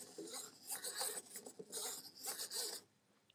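The wind-up motor of a Zoids Godos model is wound by hand, giving a close, faint ratcheting rasp in several quick bursts of clicking turns before it stops.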